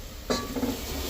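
Masala with chili powder being sautéed in a pan for a chickpea curry, giving a soft sizzle with a brief stirring scrape partway through. The sound is close but fairly quiet.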